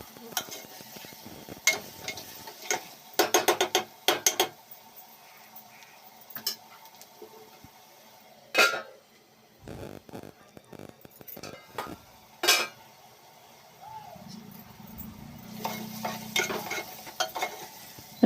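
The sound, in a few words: onions frying in a pan for mutton curry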